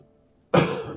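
A single sharp cough breaks the near silence, close to the mic, trailing off with a bit of throat clearing.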